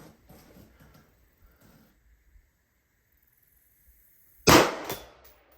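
A single sharp rifle report from AAC 77 grain OTM rounds fired at a 450-yard target cracks loudly after a quiet pause, then decays quickly. Faint handling noises come before it.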